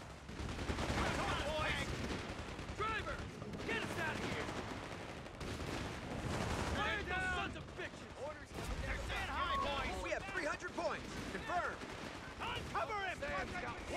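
Company of Heroes 3, a real-time strategy battle game, fills the mix with gunfire and mortar blasts: dense, continuous bursts of rifle and machine-gun fire plus explosions. Someone talks over the constant combat noise.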